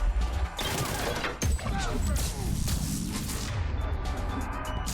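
Grenades exploding amid combat in the video game Mass Effect 3, a dense, continuous roar of blasts and gunfire with a few sharper bursts standing out, loud and unbroken throughout.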